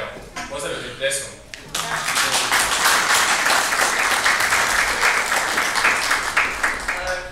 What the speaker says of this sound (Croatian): Evo, pozdravljujem pljeskom.